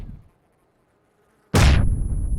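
Grenade explosion in the battle royale game PUBG, a single sudden loud blast after near silence, with a sharp bright burst at the onset fading into a heavy low rumble.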